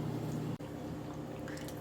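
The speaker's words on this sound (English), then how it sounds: "we have to add a little bit of water as well to make this a paste" Water trickles and drips into a blender holding cashews and onion, a soft liquid pour with a brief thump partway through, close and fairly quiet.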